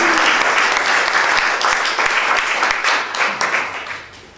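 An audience at a literary evening applauding, a full, steady burst of clapping from many hands that fades out toward the end.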